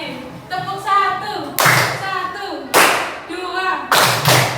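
In a second-grade classroom, a chanted clapping game mixes sung voices with three sharp, loud group claps landing at a steady beat about a second apart.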